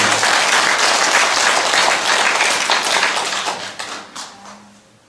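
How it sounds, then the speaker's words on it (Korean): A Catholic congregation at a Mass applauds warmly, steady dense clapping that gradually fades away over the last second or two. "어머니이신 성모님께 감사와 찬미의 박수를 보내드립니다."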